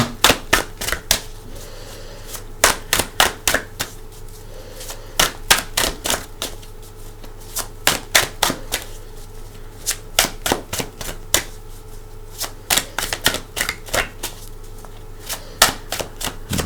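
Rapid bursts of crisp tarot card riffling come in quick clusters with short pauses between, a papery flutter repeating close up.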